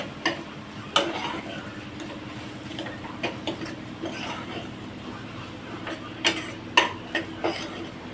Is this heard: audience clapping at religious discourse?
no